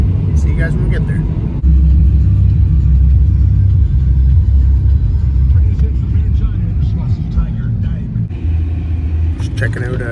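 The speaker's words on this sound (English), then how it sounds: "We're just driving to the next spot, next destination." A car cruising along a road on the way to Lepreau Falls, with a steady low engine and tyre rumble throughout and a few brief shifts in tone as it drives on.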